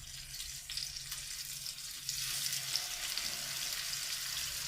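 Chicken pieces sizzle and crackle in a pan, a steady bright frying hiss with scattered pops that grows slightly louder partway through, close and with no talk.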